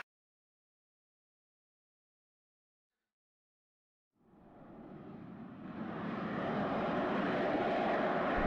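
A bomber aircraft in the WARNO video game roars in after four seconds of silence, its engine drone swelling steadily louder and holding at full strength to the end, with no voices present.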